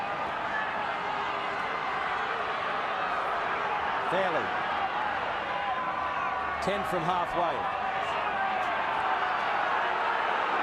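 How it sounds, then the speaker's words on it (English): Rugby league crowd at Newcastle in an NRL 2000 match against Parramatta, a dense continuous roar from the stands lifting behind the home side, heard under steady commentary. "This crowd starting to lift now. Getting behind the local side"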